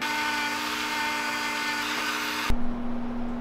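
A power drill whirs steadily while boring lead out of a homemade sturgeon lure, a loud close whine that cuts off abruptly and leaves a lower hum.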